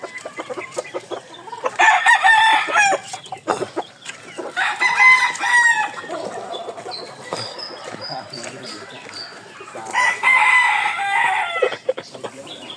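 Chickens cluck busily while a rooster crows loudly several times, with people talking in the background.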